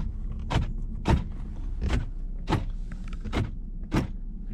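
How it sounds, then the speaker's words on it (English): Power sliding rear window on a 2015 Ford F150 pickup, heard up close as six short, evenly spaced whirring bursts, roughly one every 0.7 seconds, over a low steady rumble. "we have a sliding window. That thing hauls ass, which is a good sign"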